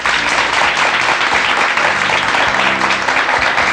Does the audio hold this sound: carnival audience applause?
yes